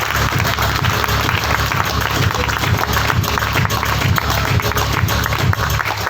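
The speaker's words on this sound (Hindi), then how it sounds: "एक बार जोरदार तालियां बजाओ अपने लिए।" An audience at a sales meeting in Robertsganj applauding, a loud, dense, sustained clapping from many hands that carries evenly from start to finish.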